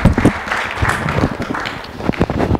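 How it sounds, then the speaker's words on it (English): An audience breaks into lively applause, a loud, dense crackle of many hands clapping at once that carries on unevenly throughout, with some movement noise mixed in. "Everybody give Mason a round of applause."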